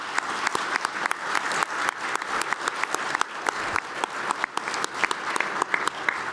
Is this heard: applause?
yes